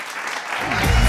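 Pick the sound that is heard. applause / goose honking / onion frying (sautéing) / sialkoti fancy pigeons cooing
applause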